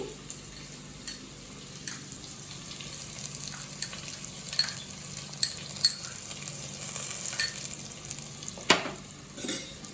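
Masala curry base fries in a pan with a continuous low sizzle, broken by scattered stirring clicks and scrapes and a sharper clatter near the end; nobody speaks.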